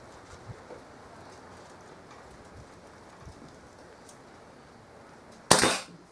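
A single sharp shot from a Kral NP02 air rifle firing pellets, one sudden crack near the end against a quiet outdoor background.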